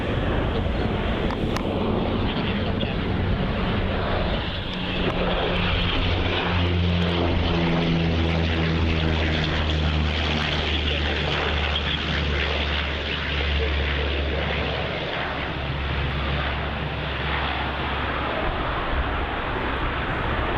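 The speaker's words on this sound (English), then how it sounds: "This is Qantas Link Flight 2088 coming in from Burnie." A Qantas Link propeller airliner arriving from Burnie lands at Melbourne Airport, its engine drone loud and steady throughout with a rising, shifting tone as it passes close by, under faint voices.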